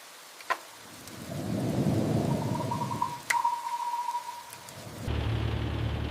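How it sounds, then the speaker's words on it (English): Heavy rain pours steadily around a mobile home while a deep roll of thunder rumbles through, with a few sharper cracks on top and a brief change in the background near the end. "Looks like the rain is picking up."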